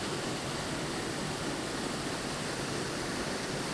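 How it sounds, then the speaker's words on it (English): Steady, dense rush of water pouring over the main waterfall at Waterfall Palace, a polluted hidden falls about three meters high in Johannesburg, heard close and loud as an unbroken hiss with no voices. "The main waterfall of Waterfall Palace."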